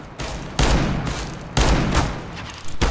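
Two loud R8 Revolver pistol shots ring out in a CS:GO deathmatch, roughly a second apart, each a sharp blast with a lingering tail, and a third shot begins at the very end.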